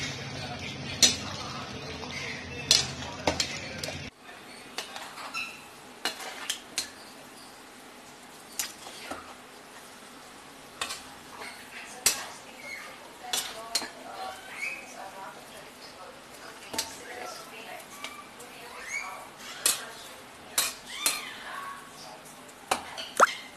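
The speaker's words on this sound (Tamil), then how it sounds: "இப்போ இதை திறந்து பரட்டி விட்டுடலாம்" A pot lid is lifted and mutton biryani of seeraga samba rice is stirred, giving a run of light metallic clinks and scrapes of spoon on pot after a brief louder burst of noise at the start.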